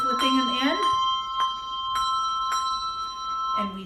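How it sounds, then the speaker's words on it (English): Handbells ring out in a series of clear, sustained strikes, each chime lingering and overlapping the next. A voice speaks over the first strokes. "Let's ring our primary bells."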